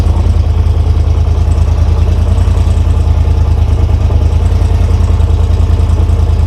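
A Big Red four-wheeler engine idles loud and close after an extreme cold start, its fast even chugging pulses steady and unbroken with no voices.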